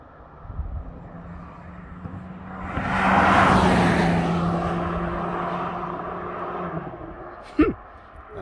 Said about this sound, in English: That's your GTI.